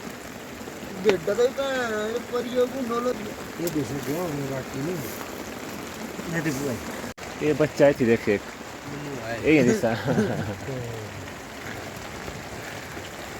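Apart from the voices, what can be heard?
heavy rain falling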